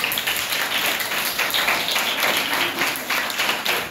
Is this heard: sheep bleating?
no